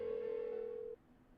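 A phone rings unanswered in Persona 4 Golden as a single steady electronic tone that holds for about a second and then cuts off, leaving quiet game ambience.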